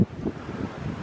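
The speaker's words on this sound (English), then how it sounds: "Extremely windy" Extremely windy, cold weather outside an abandoned house, with strong gusts buffeting the microphone in low rumbling bursts, loudest at the very start.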